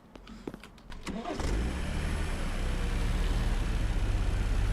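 A car engine in a farm simulator video game cranks after a few clicks and thumps, catches, and settles into a steady loud idle rumble that carries on to the end.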